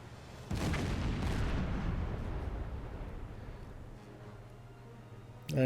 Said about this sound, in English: that's our shells exploding, not their gun firing